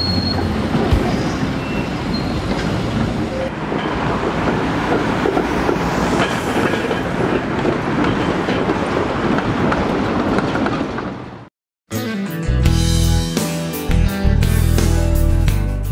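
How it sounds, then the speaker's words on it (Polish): A Szczecin tram running as a coupled double set of 13.5-metre cars rumbles past up close with squealing wheels and rail clatter for about eleven seconds, then cuts abruptly to a different, louder passage. "Tramwaje te w zwykłym ruchu liniowym zawsze kursują połączone w składy podwójne."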